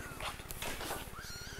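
A kitten, one of several dumped in a trash bin, meows repeatedly at close range against a steady low rumble of background noise.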